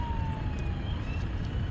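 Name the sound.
ambulance siren passing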